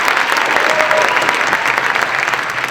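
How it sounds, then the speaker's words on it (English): Audience applause fills a high school band event at Glendora High School Bandorama 2025, a steady, dense clapping from a large crowd that holds loud and continuous throughout. "Now we should applaud."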